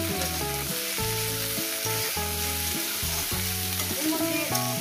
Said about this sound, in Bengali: মিনিমাম 5 মিনিট ধরে আমি ভেজে নেবো এই সবজিটাকে